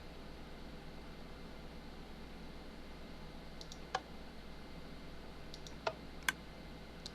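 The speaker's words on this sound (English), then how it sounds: "Okay, there's a dispenser click." Dispensers clicking in Minecraft, part of a standard mob spawner build: three or four sharp, isolated clicks, fairly near, over a steady hiss with no other sound.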